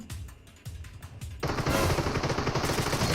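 Rapid gunfire from an ACE32 rifle in PUBG Mobile, faint at first, then a loud sustained burst of automatic shots with dense crackling.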